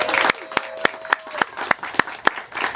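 Outdoor crowd applause at a park playground grand opening, a moderate clapping wash punctuated by sharp, regular close claps every fraction of a second, with a faint tone at first.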